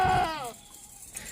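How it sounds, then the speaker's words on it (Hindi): Sheep and goats on a Pakistani goat farm bleat in a short burst up close, a wavering cry that fades into quieter farmyard background. "भेड़ बकरियों की माशाल्लाह खूबसूरत आवाज़ें आ रही होती हैं"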